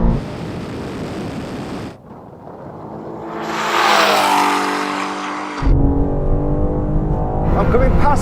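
A Bugatti Chiron Super Sport accelerates hard in a drag race against BMWs, a loud roaring engine surging through gear changes with rushing wind noise in between, close and harsh.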